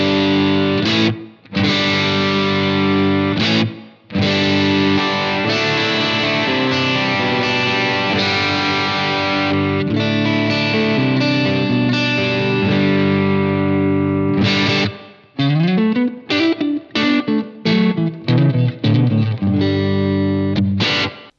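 Electric guitar played through a Blackstar Amped2 set to a basic plate reverb: thick distorted chords ring and sustain, then break into choppy, clipped notes and short bursts near the end, with no voices.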